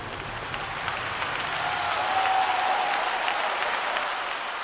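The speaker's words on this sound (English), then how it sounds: "London welcomed back its two prodigal children with thunderous applause" A theatre audience in London breaks into dense, sustained applause, a steady wash of many hands clapping at a distance, swelling slightly in the middle, with no talk over it.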